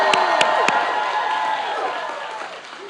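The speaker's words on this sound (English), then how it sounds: "Give yourself a round of applause." Crowd at an outdoor campaign rally in Asheville, North Carolina, applauding and cheering in a steady, dense wash with a few sharp claps and whoops. The sound fades slightly toward the end.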